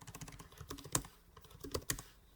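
Quick bursts of typing on a computer keyboard while configuring routers for static routing, uneven clicks with a few sharper key strikes, fairly close and alone.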